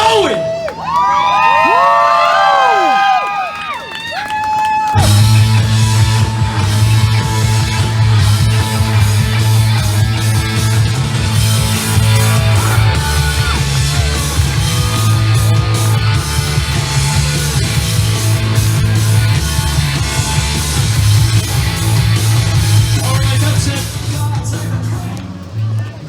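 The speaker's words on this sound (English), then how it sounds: "I want you guys to cheer as loud as you can so we can get this show going" After a few seconds of high whistling, a large crowd bursts into loud, sustained cheering, shouting and whooping that keeps going without a break.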